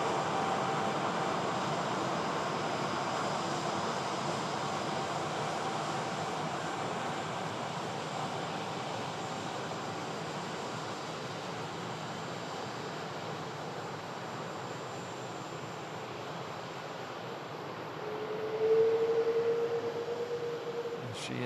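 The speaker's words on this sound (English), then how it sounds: "Bit of a howl as the engines spool up to move the plane." Jet airliner engines on a runway give a steady, broad roar that holds for a long stretch, then rise briefly into a higher howl near the end, heard from some distance outdoors.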